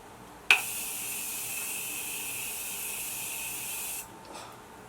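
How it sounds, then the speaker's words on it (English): A single continuous spray of makeup remover dissolving mist from an aerosol bottle onto a face, a steady close hiss lasting about three and a half seconds after a sharp onset, then stopping, with no talking. "I'm gonna go ahead and just spray this side a little bit more"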